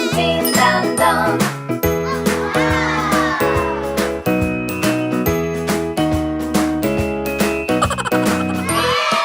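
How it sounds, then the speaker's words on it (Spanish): Bright jingling bells ring through a cheerful children's song, the Spanish version of the round Frère Jacques, steady and up front over a full musical backing with repeated chiming strikes. "Estás durmiendo, hermano Juan, suenan las campanas, din dan don, din dan don."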